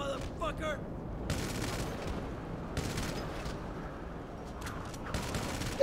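Gunfire in GTA 5 during a shootout with FIB agents, several quick bursts of shots separated by short pauses, fairly distant and moderate in level, with a faint voice in the background.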